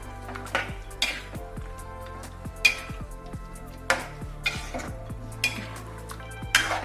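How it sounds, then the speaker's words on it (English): A spoon scrapes and clinks against a pan of chicken rezala gravy cooking on high heat, several sharp metallic strokes over a soft steady sizzle, close and alone. "So now I'm going to stir this, and I'm going to cook this for some time in high heat."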